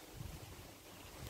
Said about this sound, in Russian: Еще ветер такой какой-то ледяной.